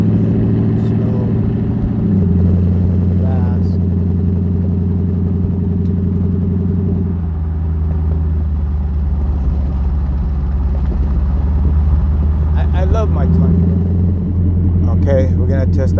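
A 2021 Toyota Tundra with a straight-pipe exhaust drives slowly, its deep, loud rumble holding steady with low pitch shifts as it eases along, close up, with a few brief clatters near the end.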